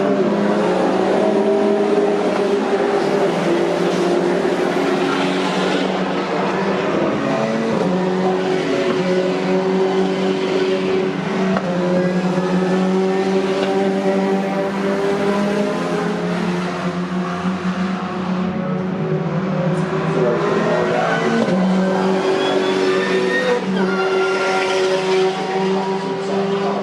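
Touring race cars in a CSCC Turbo Tin Tops series race at Donington Park roar past continuously, engines revving loud and close with tyre squeal over a dense, sustained motorsport din.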